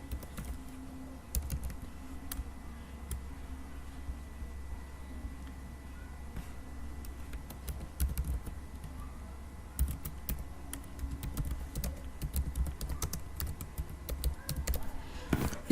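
Steady typing on a computer keyboard while entering an equipment resource ID and description in business software, with quick clicking keystrokes in bursts and a few sharper taps, close and alone without speech.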